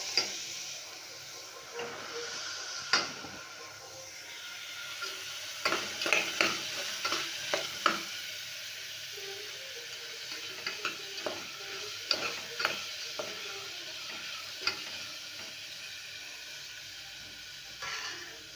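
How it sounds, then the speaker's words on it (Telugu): Vakkaya and green peas curry being stirred in a pan, a soft continuous sizzle broken by scattered scraping clicks of a spoon against the pan, moderately close with no talking. "ఇప్పుడు బఠానీ కూరని ఇలా కలుపుకుందాం అనమాట"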